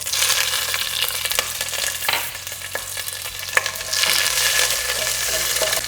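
Green chilies frying in hot oil with whole spices like bay leaves, cardamom, cloves and cinnamon sticks, a steady close sizzle with stirring scrapes and a few sharp crackles throughout.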